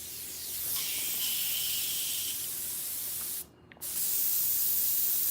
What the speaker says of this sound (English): We'll spray water through it.